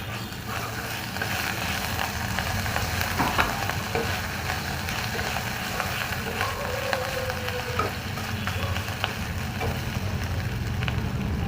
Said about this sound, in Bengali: এবারে এই যে আদাটা গ্রেট করে রেখেছিলাম, এই আদাটা দিলাম।